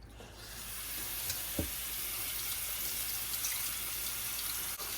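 Hot water from a sink tap sprays steadily over fresh elderberries being rinsed, a continuous close hiss with a brief splash near the start.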